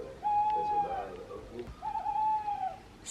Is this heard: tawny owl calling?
yes